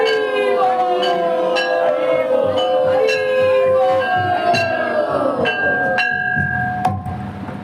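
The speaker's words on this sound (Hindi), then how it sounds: "घंटा ध्वनि" Temple bells ring repeatedly during a devotional chariot festival, bright struck tones that linger with sustained harmonics amid dense crowd noise and chanting, fairly loud and continuous.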